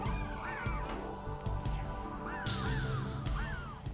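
Crows caw repeatedly in a level of the PS1 game Frogger, several rising, harsh calls over a dense, busy game soundtrack with regular ticking clicks.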